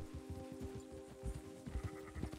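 Sheep in Red Dead Redemption 2 bleat in a quick run of overlapping calls, with shuffling hoof-like thuds beneath, close and fairly busy, and no talk over them.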